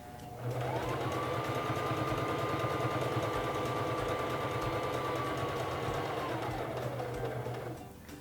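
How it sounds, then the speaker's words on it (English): Singer Fashion Mate 3333 sewing machine stitching a buttonhole, a steady close motor whir with rapid needle clatter that runs evenly for about seven seconds before winding down, with no talk over it. "And go to your stitch selector dial and turn it so that it is on step 3 of the buttonhole. And begin sewing."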